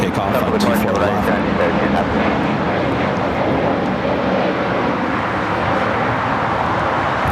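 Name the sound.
airliner at LAX airport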